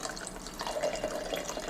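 Chocolate mint milk tea drink poured into a cup, a steady close liquid stream with light splashing through the whole short moment.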